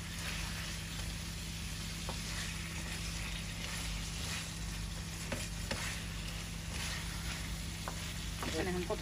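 Broiler chicken leg pieces frying with spices in a pan, a busy continuous sizzle with stirring scrapes throughout, heard up close under a faint background hum and no speech.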